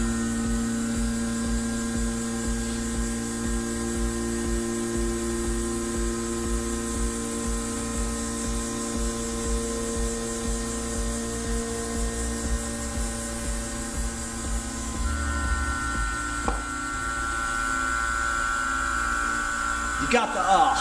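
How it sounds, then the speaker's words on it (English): A vacuum pump on a screen printing exposure unit runs with a steady, constant mechanical hum and whine for the whole stretch, close by, shifting slightly near the end with a few brief clicks. "Okay, I think the pump is on."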